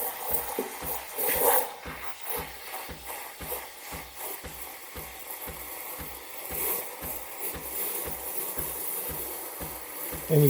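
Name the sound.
Breville Barista Express steam wand frothing milk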